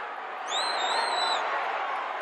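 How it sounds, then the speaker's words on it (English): A wrestling crowd roars and cheers inside the Sam Houston Coliseum in Houston for Tommy Rich. The steady arena noise swells after a moment and carries a few whistles above it. "up on their feet and roaring. Listen to Tommy Rich gets the cheers of the fans."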